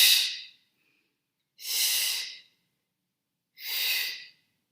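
Three deep breaths taken during a beginner Pilates class, each a strong airy exhale lasting under a second, spaced evenly about two seconds apart with silence between.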